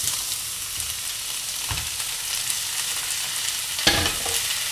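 Broccoli hits a pan of browning onion with a steady, dense sizzle, joined by two sharper scraping stirs of a utensil partway through. No one speaks.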